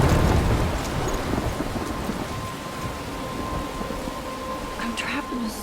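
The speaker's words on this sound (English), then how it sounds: "I'm trapped in a storm?" Heavy rain pours steadily in a stormy scene from the video game Life is Strange, a dense wash of noise with low rumbling and a faint steady tone running through, filling the whole stretch.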